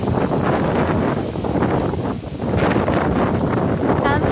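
Strong wind buffets the microphone outdoors near a cathedral, a loud, continuous roaring rumble with gusts that swell and dip, heard alone.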